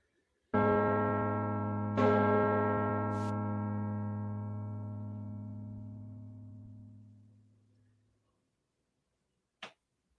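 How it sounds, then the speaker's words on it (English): A school bell chimes twice, each stroke ringing out with a rich sustained tone that slowly fades over several seconds, followed by a brief click and then quiet. "You can hear the bell chime over everyone's heads."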